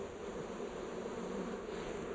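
Dense, steady drone of many honey bees swarming around an old hive box being opened and cleared out in the bush, a continuous close hum with no speech.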